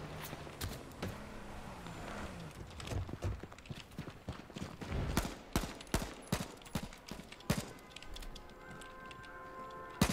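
Sharp gunshots crack irregularly in the online shooter H1Z1, some single and some in quick clusters, over a busy game background.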